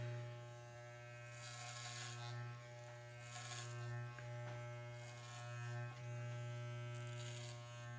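Electric hair clippers buzz steadily during a self haircut, a close, constant motor hum with brief changes in pitch and load as the blades move through hair, no talk.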